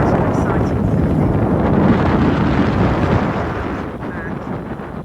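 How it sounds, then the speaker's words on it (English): Strong wind buffets the microphone aboard a sailboat passing under the Golden Gate Bridge in San Francisco Bay, a loud, steady roar that eases slightly near the end. "The wind is getting up."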